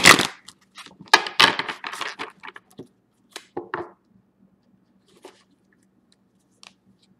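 Crisp bursts of tarot cards riffling and snapping together, loud at first, then trailing off into a few faint taps and silence.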